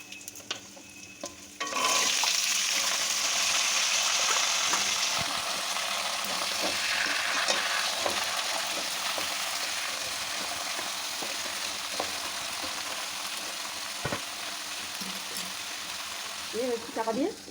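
Dried red chillies, five-spice seeds and asafoetida sizzle in hot oil for a Bengali mixed vegetable curry. After a short quiet opening, a loud crackling sizzle begins and slowly fades. Stirring scrapes and clinks of the pan run throughout.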